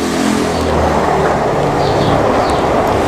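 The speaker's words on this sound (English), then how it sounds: "Is that another train?" A train passes close by as a loud, steady roar of rumbling wheels and rushing noise, filling the whole moment with no break and no voices.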